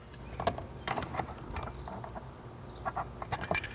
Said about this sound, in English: take your wrenches and snug it up the rest of the way